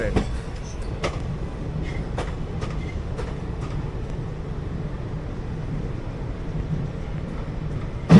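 A crowded passenger train from Kolkata running on its tracks, heard from inside a carriage: a continuous loud rumble with regular clickety-clack beats from the wheels.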